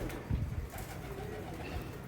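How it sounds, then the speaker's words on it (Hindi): Soft, low cooing of caught pigeons, adults and young, close by, a few muffled throaty calls over a faint background hum. "ये सारे पकड़े हुए कबूतर है दोस्तों"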